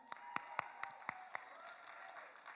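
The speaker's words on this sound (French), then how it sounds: "Applaudissez-vous, applaudissez-vous." A live audience at a music show applauds itself with a run of sharp, crisp claps that fade to a softer crowd rustle, moderately loud and close.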